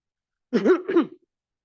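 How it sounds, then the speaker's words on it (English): A single short throat-clearing cough during a lecture, two quick rough bursts close to the microphone, then silence. "I often get the coughs through a talk"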